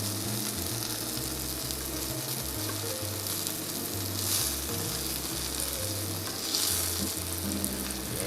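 Flour-coated oyster mushroom clusters fry in oil until crisp and golden brown, giving a steady, close sizzle with a low rhythmic bubbling underneath and no voices.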